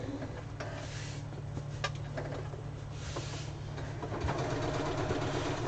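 A sewing machine stitches fabric scraps, a steady low motor hum with small clicks and taps throughout, close and moderately loud, with no talking.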